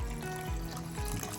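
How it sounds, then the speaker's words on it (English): Filtered water poured into cooking pots on a stove while making chili, a quiet, steady close trickle with faint low bubbling pulses. "I'm going to add a little filtered water into each"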